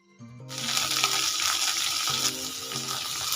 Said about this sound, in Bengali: সজনে ডাঁটা আলুগুলো ভাজা ভাজা হয়ে গেছে।